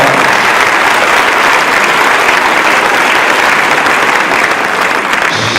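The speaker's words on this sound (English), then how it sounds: "So give her a round of applause." An audience at a school district's end-of-year celebration breaks into loud, sustained applause for a retiring educator, with a dense, even clapping that never lets up.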